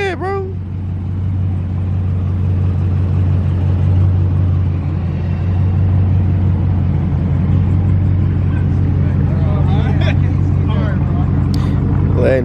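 Widebody Scat Pack car doing donuts, its engine rumbling loud and steady throughout with rising revs, heard from inside the car under excited voices.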